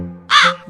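A single crow lets out one harsh caw, close and loud, standing out against a steady low hum.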